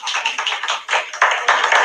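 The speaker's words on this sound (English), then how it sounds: "Give yourself a hand clap." An audience at a lecture claps hands in a brief, dense burst of applause, loud and close, with irregular overlapping claps and no talking.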